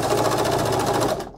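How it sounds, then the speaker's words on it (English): An overlock serger runs steadily, stitching and trimming the fabric edge on knickers, a fast even mechanical whir with rapid stitch pulses, close and loud, stopping abruptly near the end. "So all that remains now is to serge the edge, and I try and go as close to the stitch line so that the stitching will be underneath the overlock."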